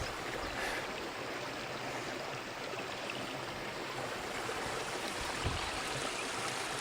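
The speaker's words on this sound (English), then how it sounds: "Fresh mountain water" Fresh mountain stream water rushing steadily over rocks in the Scottish Highlands, a close, continuous broadband babble with no voices.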